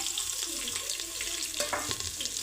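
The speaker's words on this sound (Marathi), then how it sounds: "तेल गरम झाले आता आपण त्याच्यामध्ये खडे मसाले घालून घेऊ" Whole spices fry in a ladle of hot oil for a spiced rice dish, giving a soft, continuous close sizzle with light stirring scrapes throughout.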